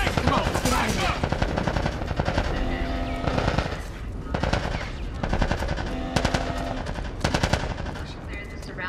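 Gunfire in the video game The Last of Us Part I, dense rapid automatic bursts and single shots rattling loudly and continuously with brief pauses, mixed with shouting voices.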